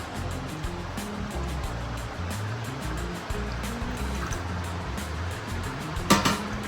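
Water gushing steadily from a borewell pipe outdoors, a continuous rushing splash with low rumbling pulses underneath and a brief sharper splash near the end.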